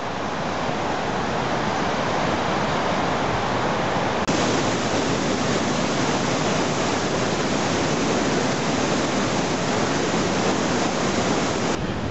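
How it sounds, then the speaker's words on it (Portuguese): Waterfall cascading through a canyon on the Annapurna Base Camp trek, a steady, dense roar of rushing water, loud and continuous with no pauses and no voices. "O que tem de cascata rolando por esse cânion"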